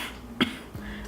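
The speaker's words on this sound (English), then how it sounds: "do a little fake cough" A single short, deliberate fake cough bursts out quietly near the start, followed by a faint breathy sound, in a home workout setting with no speech around it.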